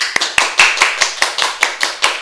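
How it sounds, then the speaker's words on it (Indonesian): Rhythmic clapping for Karinda Bayina, a student representative from Surabaya, with about ten sharp, evenly spaced claps close by and no talk over them. "Langsung aja kita beri tepuk tangan yang meriah buat Karinda Bayina"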